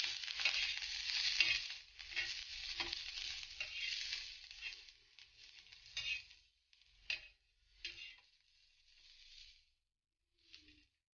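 Two spoons of oil heating in a pan for green chili thecha, a steady soft sizzle that thins out into intermittent crackles and brief pops before falling nearly silent, close and quiet, with no talk.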